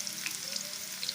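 Onions already half-browned keep frying as garlic-ginger paste goes into the pan, giving a steady close sizzle with light crackle and no talking.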